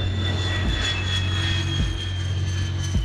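A NASA WB-57 jet aircraft taxiing, its engine a loud steady drone with a whining tone, heard close and continuous from start to finish, with no talk.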